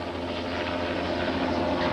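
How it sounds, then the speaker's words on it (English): A helicopter flies overhead during an elephant rescue in Africa, its steady rotor and engine roar a dense, continuous drone that stays loud and close throughout with no pauses or talk. "The helicopter you see is backed up by a crew of on-ground vehicles and a plane in the air"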